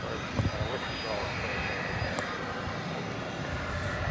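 A Boeing 777 airliner arriving from London Heathrow at Dallas Fort Worth Airport gives a distant, steady jet engine rumble with faint voices briefly audible.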